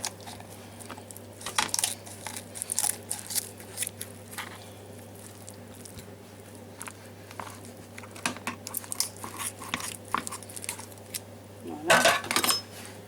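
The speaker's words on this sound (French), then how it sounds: "On a coupé le dos ici." A knife cuts through a boiling hen on a hard surface in a kitchen, producing scattered scraping, tapping and crunching strokes at close range, with a steady low hum underneath and occasional soft speech.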